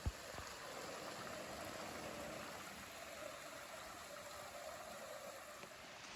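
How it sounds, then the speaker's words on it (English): A creek flowing in the woods, a steady soft wash of running water heard at a moderate distance, even and unbroken throughout with no voices. "And we're by the creek."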